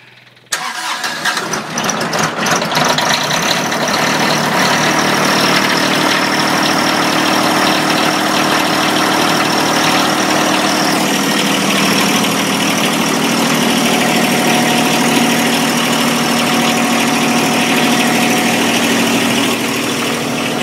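A tractor's diesel engine fires up after a glow plug is held too long, then settles into a loud, steady, close idle that runs unbroken to the end.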